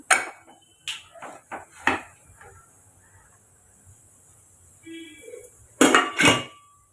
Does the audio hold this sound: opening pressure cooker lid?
yes